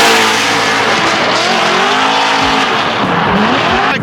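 Formula Drift cars race past on the streets of Long Beach, loud and close. Engines roar and tires squeal continuously as they slide by, with pitch sweeping up and down over the sustained din.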